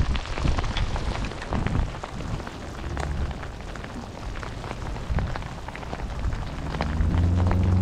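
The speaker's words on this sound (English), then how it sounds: "Fishing in the rain." Rain falls during a Florida thunderstorm while people go fishing, a dense hiss of drops with scattered splatters, and a low rumbling swell near the end.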